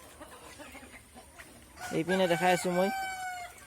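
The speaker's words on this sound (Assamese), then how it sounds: "এয়া চাওক লোকেল মুৰ্গী" Local chickens cluck and call nearby, a short burst of loud harmonic squawking after quieter scattered clucks, while someone speaks briefly over them.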